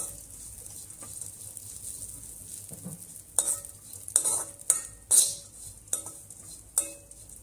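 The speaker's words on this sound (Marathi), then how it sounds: "तुपावर चांगल्या प्रकारे आपण काजू बदाम आणि मनुके भाजून घेणार आहोत." Cashews, almonds and raisins sizzle softly in hot ghee in a kadhai while a spoon scrapes and clinks against the pan in several sharp strokes.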